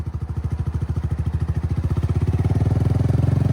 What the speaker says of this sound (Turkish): Yine debriyajı yavaş yavaş az önceki gibi bırak, çok hafif gaz ver.